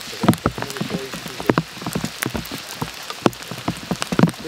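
Hailstones patter and tick sharply on a hard surface in a forest in a dense, irregular stream, close by and fairly loud.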